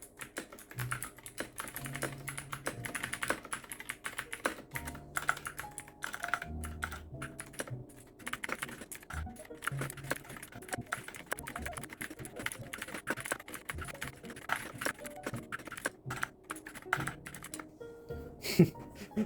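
Fast, continuous typing on a Machenike K600 mechanical keyboard with blue switches, crisp clicky keystrokes in quick irregular bursts, close and fairly quiet, with no talking.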